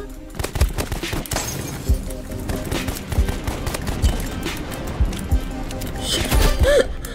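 A paintball gun fires in the Roblox Rivals video game as rapid bursts of popping shots over busy game noise, steady and fairly loud throughout.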